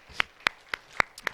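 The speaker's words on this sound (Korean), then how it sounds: "우리를 그렇게 불러주시고 사용하여 주신 우리 하나님께 한번 영광의 박수 올려드리겠습니다" Brief scattered claps from a church congregation during a service, five or six separate sharp hits spread over about a second, fairly faint with no voices over them.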